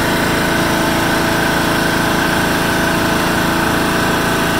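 Steady, loud engine drone from a 1996 John Deere LX176 lawn tractor running at wide-open throttle, holding an even, continuous pitch without surging or sputtering throughout.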